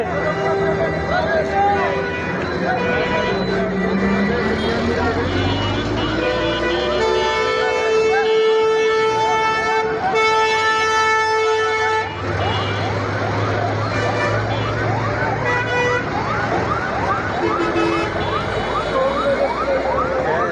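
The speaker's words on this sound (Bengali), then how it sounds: "ওই যে ফায়ার সার্ভিস আসতেছে" Loud wailing fire engine siren rising and falling continuously as it arrives at a spreading fire, with blaring horn blasts and crowd noise around it, close by.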